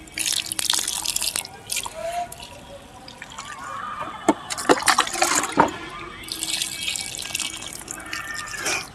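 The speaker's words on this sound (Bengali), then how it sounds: "এই গাছের গোড়াতে এই জলটাই দিয়ে দেবো কাণ্ডগুলোতে একটু ভিজিয়ে দিলাম" Water poured by hand onto the soil at the base of a potted mussaenda plant, heard as irregular close drips and splashes that come in small bursts, with a louder trickle toward the end and no voices.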